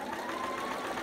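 A sewing machine runs steadily close by, stitching a quarter-inch seam along the edge of a romper's bell sleeve. Its motor hum is continuous and even, with no talking.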